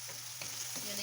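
Ground turkey and shrimp pasta is stirred in a hot pan: a close, steady sizzle with soft scraping stirs.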